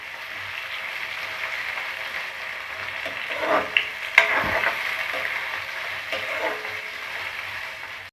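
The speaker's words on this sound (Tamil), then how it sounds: "வெங்காயம் நல்லா கோல்டன் ஃப்ரை ஆகிற வரைக்கும் வதக்கி விட்டுட்டே இருப்போம்." Onions sauté in a pan over a low gas flame, giving a steady close sizzle with a few brief clatters of stirring partway through and no talk.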